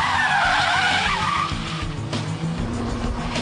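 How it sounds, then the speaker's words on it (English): A car drifts through a handbrake turn followed by a reverse flick, its tires squealing loudly and wavering in pitch over a steady engine roar, close and with no talk. "the handbrake turn followed by reverse flick"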